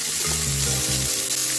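Onions hitting hot oil in a wok-style kadai for an Assamese chicken dish give a steady, close hiss of frying that runs the whole time, with low tonal hums layered underneath.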